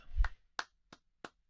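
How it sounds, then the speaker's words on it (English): Four sharp, separate claps in the video game Aokana, evenly spaced and fairly quiet, with silence between them. "Some clapping?"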